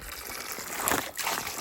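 Fresh spring water pours steadily into a handheld bottle at Climax Spring, a continuous close trickle and gush with a brief dip near the end.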